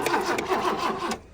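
An old BMW E30 engine cranks on stale, ten-year-old gasoline without catching: a close, steady churning of the starter that stops abruptly after about a second.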